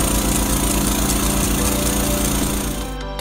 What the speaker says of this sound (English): A few more drills and the bird is free.